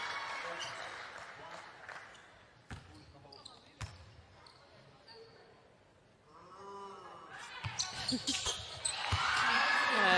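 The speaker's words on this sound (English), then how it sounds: "Nice little noise from the crowd to try and put her off" Crowd noise in a basketball arena during a women's World Cup game between Serbia and Mali, rising to a loud, sustained roar toward the end, with sharp ball bounces early on and a commentator talking over it.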